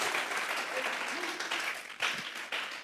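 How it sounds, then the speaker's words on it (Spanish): A church congregation claps as an offering of praise to God during a sermon on Revelation: a sustained, fairly loud crowd applause with a few sharper surges near the end, and a voice speaking over it. "Vamos a regalarle ofrenda de palmas al Dios de la gloria"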